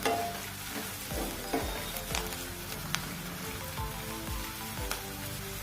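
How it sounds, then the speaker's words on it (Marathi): Onion and curry leaves sizzling in a pan while being stirred, a constant crackling fry with repeated scraping strokes of the spoon every second or so, close and steady throughout. "कांदा छान परतून झाला की"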